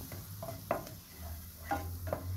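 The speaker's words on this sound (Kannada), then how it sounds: "ಈಗ ಆ ಮೈದಾನ ಚೆನ್ನಾಗಿ ನಾವು ಫ್ರೈ ಮಾಡಬೇಕು" Butter and maida flour fry in a pan for white sauce, with a soft low sizzle under intermittent scraping strokes of a spoon stirring every half second or so, quiet and close, no talking.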